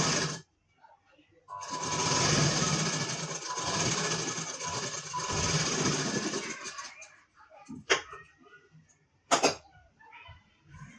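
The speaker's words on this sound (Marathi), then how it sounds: "त्यावर पावींचा शिलाई करून घ्यायचं आहे" A sewing machine runs in a steady burst of stitching along a blouse strip for about five seconds, then stops, followed by a couple of short clicks or handling noises close by.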